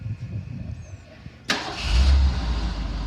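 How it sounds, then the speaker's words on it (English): A car with pop-up headlights cranks and fires up with a sudden burst, then settles into a steady, close engine idle after a brief quiet lead-in. "now start the engine"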